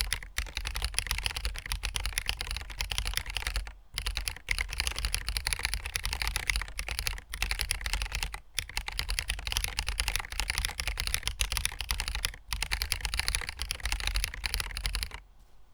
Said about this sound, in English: let's jump over to Monkey Type and give it a typing test